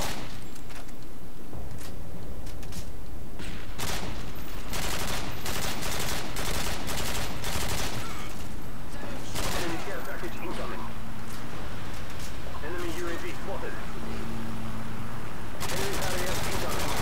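Gameplay gunfire from a TAR-21 assault rifle in Modern Warfare 2 on the Terminal map, loud bursts and single shots in irregular clusters over ambient battle noise, with a voice talking over it.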